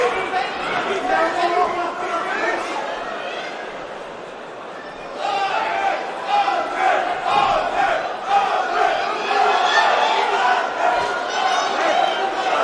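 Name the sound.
Swedish fans chanting in crowd at Manchester MMA event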